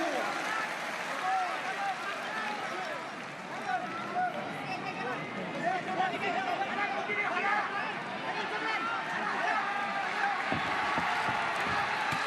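A boxing crowd at a WBC light flyweight title fight between Kenshiro Teraji and Randy Petalcorin, roaring and cheering in a dense, sustained wash throughout, with a commentator talking over it.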